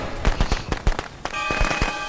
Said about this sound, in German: ich schmeiß die Böller